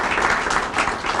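Audience applause at a public meeting on transit-oriented development in Prince George's County: a brief, dense burst of clapping from a seated crowd, steady and fairly loud, with no talk.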